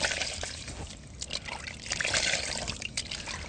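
Hot water pours and trickles into a basin or sink while preparing to shave with a cut-throat razor, a steady splashing flow with brief gurgles, close and without talk.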